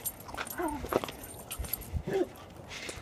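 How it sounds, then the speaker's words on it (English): A dog whimpers and gives a few short yips and barks nearby, fairly faint and intermittent. "Oh, that's what you're barking at."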